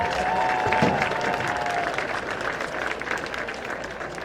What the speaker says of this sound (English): Let's give a big round of applause for all of this year's King and Queen candidates